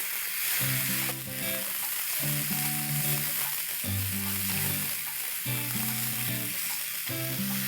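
Steady, close sizzling of ginger garlic paste frying in a hot pan, with soft background music playing throughout and no talking.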